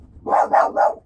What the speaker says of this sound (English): let's go see what they're barking at